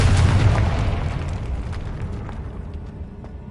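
Confringo explosion spell in Hogwarts Legacy: one loud, deep booming blast at the start that rumbles and slowly decays over a few seconds, heard alone.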